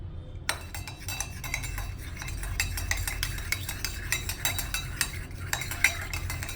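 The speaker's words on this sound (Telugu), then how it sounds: "మనం మిక్స్ చేద్దాం ఇంకా బాగా." A spoon stirs rose milk syrup into milk in a glass, giving a quick, steady run of close metallic clinks and taps against the glass with no voices over it.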